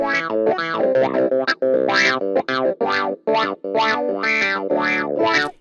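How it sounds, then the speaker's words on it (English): A funky clavinet sound on a digital piano plays choppy, percussive notes through a wah-wah effect, each phrase sweeping and quacking in a bright, rhythmic pattern. "has classic clav sounds, complete with wah-wah effects"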